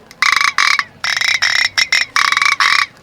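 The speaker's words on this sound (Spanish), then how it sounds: "el ranueco es el reclamo de la rana." A ranueco, a traditional river-cane frog call once used for hunting, rasps out a series of loud, close, buzzy croaking bursts in an uneven rhythm, with short gaps between the grating pulses.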